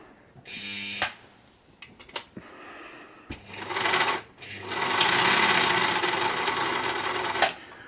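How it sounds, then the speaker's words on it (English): A Singer 190 sewing machine winds a bobbin with a steady, loud mechanical whirr that runs for several seconds. Its worn bobbin winder rubber makes it a little noisy, and brief clicks and handling sounds come before the run. "You can wind a bobbin there."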